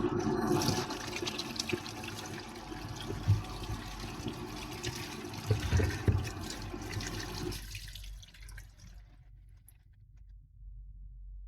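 Running water splashes and gushes steadily for several seconds while rinsing a mixing cup lid, then cuts off, leaving a faint low hum.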